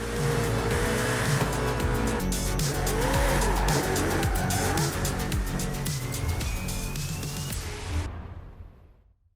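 A Porsche Carrera racing engine roars loud and close in Forza Horizon 5 in Mexico. Sustained revving is cut with squealing, skidding tires, and the whole roar fades out abruptly near the end.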